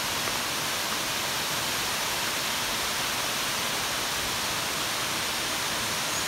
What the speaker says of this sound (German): das ist ja mal ein Wasserfall.